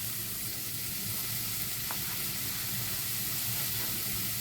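Chopped vegetables sizzle steadily in a pan of frying onions, a continuous close hiss and crackle with faint stirring and no voices.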